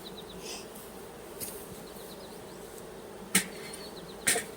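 Russian honey bees from a new swarm around a hive hum softly and steadily, with a few sharp knocks and clicks near the end.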